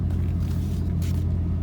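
A car engine runs hard on a dynamometer, giving a loud, steady, low mechanical roar that holds unbroken throughout.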